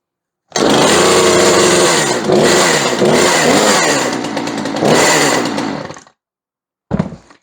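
A repaired chainsaw, its fuel line just replaced, runs loud and close for about five and a half seconds, revving and settling, then cuts out before a brief final blip.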